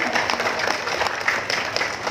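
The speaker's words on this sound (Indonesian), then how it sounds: "Boleh berikan tepuk tangan yang meriah untuk kita bersama" Dense, lively clapping from a crowd at a community gathering of different ethnic and religious groups in Jombang, brief and unbroken.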